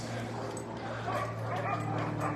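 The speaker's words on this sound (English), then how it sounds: "What a big, handsome shepherd." A big shepherd dog whines and whimpers close by, with a few soft yips over a steady low hum, and voices faint in the background.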